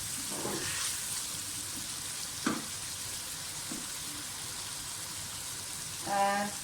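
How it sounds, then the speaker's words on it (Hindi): Mutton sizzling and frying in a pot for palak gosht, with a steady close hiss, occasional spoon scrapes, and a brief voice toward the end. "गोश्त हमारा भूनिए, थोड़ा सा और बस मैं इसकी बुनाई करूँगी"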